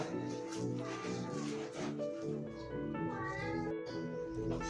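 Several cats meow repeatedly and close by, overlapping cries over a busy background with a faint voice.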